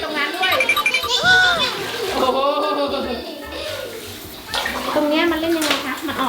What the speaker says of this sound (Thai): แล้วให้หนูแยมล้าง เอาถูถูถู